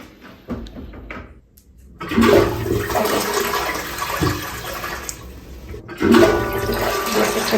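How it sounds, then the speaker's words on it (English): An electronic toilet in a hotel room flushes after a button press: a few small clicks and taps, then a loud rushing surge of water that eases and swells again near the end. "Just another flush."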